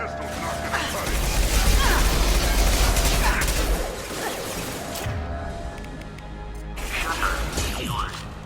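A heavy metal shutter grinds shut with a low mechanical rumble and clanks in Mass Effect 2, amid game sound effects and occasional voices.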